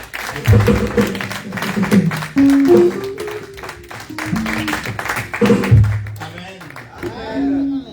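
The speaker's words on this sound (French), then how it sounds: "ils sont en train d'acclamer le Seigneur" A church congregation claps and acclaims the Lord in worship, dense applause and cheering mixed with voices and what sounds like music, loud and sustained throughout.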